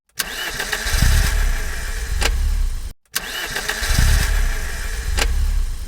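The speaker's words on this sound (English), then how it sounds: "that is the sound of a minivan not going anywhere" A minivan engine cranks and sputters but fails to catch, twice in a row, with a brief pause between attempts. The starter whirs loudly and close by.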